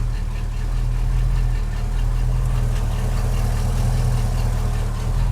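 A 1989 Chevrolet S10 pickup with a V-8 engine idles steadily in gear, a constant low rumble with a slight knocking pulse, close and loud throughout, no talking.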